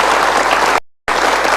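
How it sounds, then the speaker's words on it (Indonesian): A studio audience claps loudly and densely during a talk show, a continuous wash of applause briefly cut off by a moment of silence before resuming at full strength. "Jadi saya pikir kita berikan tepuk tangan"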